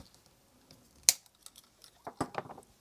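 Scissors or a cutting tool snip the rubber sock off a photomultiplier tube taken from a Fujifilm FCR XG-1 X-ray scanner. One sharp snip is followed by a short burst of crunchy cutting, all close and quiet.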